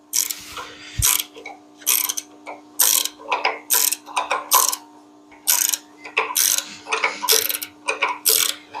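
Ratchet tightening a nut while reassembling the chassis of a 1957 Chevy Bel Air, heard as repeated short bursts of close, sharp clicking in an uneven rhythm, with no talking.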